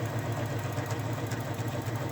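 A sewing machine runs a quarter-inch seam around a cushion cover. Its motor gives a steady, close, continuous whirring hum with no pauses and no voices.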